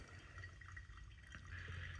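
Hot water poured in a gentle spiral over anaerobic natural Gesha grounds for competition-style pour-over coffee: a soft, continuous close trickle and splash, steady without breaks.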